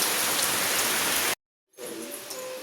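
Steady rain pouring down, a dense hiss of drops on surfaces that cuts out briefly partway through and then resumes, heard close and loud with no talking.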